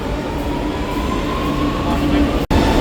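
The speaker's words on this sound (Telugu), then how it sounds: "అండర్ గ్రౌండ్ మెట్రో ఉంది ఫ్రెండ్స్. చెన్నై మెట్రో" A Chennai underground metro train running, with a loud, continuous rumble and a faint rising whine from the motor that drops out briefly near the end.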